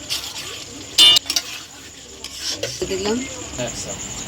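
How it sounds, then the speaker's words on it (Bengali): Potol kaju with ghee is stirred in a pan, a sharp metallic scrape near the start followed by softer scraping and a light sizzle, with a voice briefly heard. "হ্যাঁ, নাড়িয়ে নামিয়ে নেবো।"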